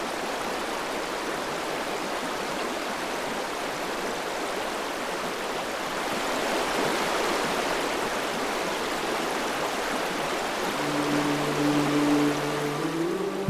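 Steady broadband rush of river water flowing at the Devprayag confluence of the Bhagirathi and Alaknanda, continuous and fairly loud, with a faint tonal hum entering near the end.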